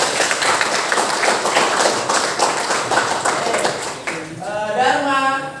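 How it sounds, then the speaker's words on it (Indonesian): A school class claps hands together in rapid, close, continuous bursts during a civics lesson, and a voice begins speaking over the tail of the clapping. "Oke, tepuk tangan dulu."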